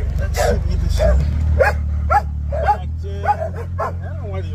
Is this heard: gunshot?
no